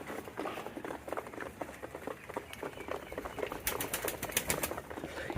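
Peshawari pigeons in a loft flutter and shuffle, with rapid pattering wingbeats and scratchy movement close by, a louder burst of flapping near the end.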